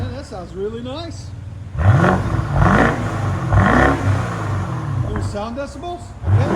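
A 2015 BMW 650i with a 4.4L V8 and muffler delete revs hard close by, three loud rising blips with throaty low rumble at idle between them, while voices talk over the start and end.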